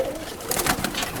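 Pigeons in a loft: a short, soft cooing close by, with a low rolling warble over a steady airy background, and no voices.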